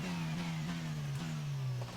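Formula One racing car engine in F1 22 at the Australian GP, a steady high-pitched drone accelerating down a straight with brief gear-shift dips, close and loud with no talk.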